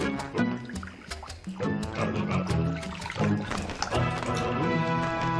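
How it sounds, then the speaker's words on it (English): Bloodhound puppies lap and slurp water from a dish, their long ears dipping in: close, busy wet splashing with snuffling, snorting noises running continuously over a few seconds. "Bloodhound puppies' ears fall in the water when they drink."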